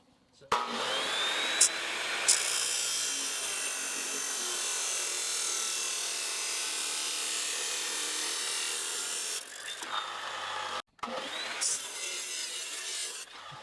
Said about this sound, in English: The first thing we're doing is just cutting this angle iron off into pieces about 3 inches long.